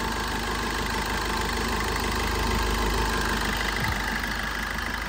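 A used 2020 Maruti Swift VDI diesel with 42,000 km idles with a steady low clatter, close and loud with an even rhythmic knock and no voices.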